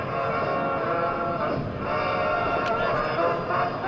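An F-86 Sabre jet fighter passes at an air force base open house, a loud continuous jet roar filling the moment, with an announcer talking over it.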